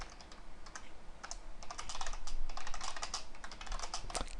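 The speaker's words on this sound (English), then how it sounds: "Can't talk and type at the same time apparently." Rapid clicking keystrokes on a computer keyboard while writing HTML, close and fairly quiet, in irregular bursts with no voice.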